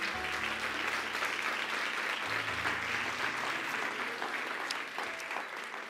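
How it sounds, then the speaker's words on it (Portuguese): A church congregation applauds during a sermon on Isaiah's vision and calling, steady sustained clapping that fills the room at a fairly low level, with a faint tone humming underneath. "Pode aplaudir o Senhor"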